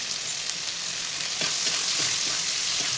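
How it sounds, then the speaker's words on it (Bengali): Chopped onion and capsicum fry in a hot pan with a steady, close sizzle, broken by a few soft stirring scrapes partway through and no voices. "সুন্দর করে ভালো করে ভেজে নেবো যতক্ষণ না পেঁয়াজ আর ক্যাপসিকামটা নরম হয়ে যাচ্ছে"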